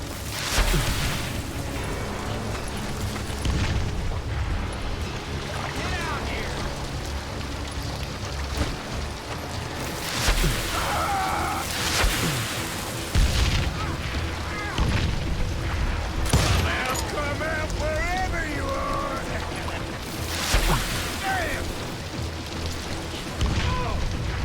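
Gunfire from the Western video game Call of Juarez Gunslinger, heavy booming shots scattered through a dense, busy game soundscape, with a few louder bursts standing out over continuous background noise.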